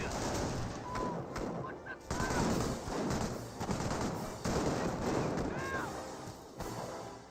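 Battle gunfire in Company of Heroes, with dense volleys of rifle and automatic fire and distant blasts rolling continuously, loud and busy with no pauses throughout.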